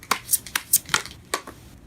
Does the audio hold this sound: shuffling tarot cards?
yes